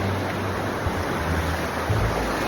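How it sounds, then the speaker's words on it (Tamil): Cold water of the Ganges rushing steadily in Uttarakhand, a constant broadband roar close by with no pauses. "கங்கை நீர், கங்கை தண்ணி."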